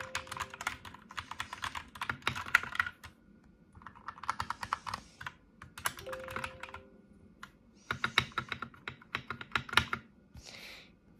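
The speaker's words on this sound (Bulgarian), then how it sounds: "Ето е клавиатурата." Rapid clicking keystrokes on a computer keyboard come in bursts separated by brief pauses, close and fairly quiet, with no talking.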